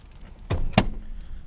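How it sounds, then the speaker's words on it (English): The second-row seat of a 2024 Hyundai Palisade Calligraphy AWD slides forward at the press of a button, giving a short mechanical clunk followed by a sharper latch thump, close and brief inside a quiet cabin. "all you got to do is press this button and it slides forward"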